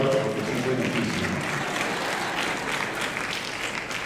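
An audience at an education lecture bursts into applause, a dense wash of clapping that stays strong and gradually eases slightly, with a few voices faintly mixed in.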